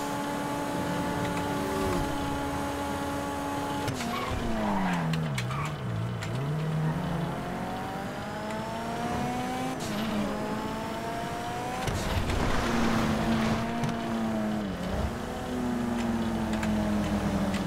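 A car engine in the GTA 5 Online video game, revving up and down with pitch sweeps, shifting gears and occasional tire squeals and thumps, continuous and prominent with no talk.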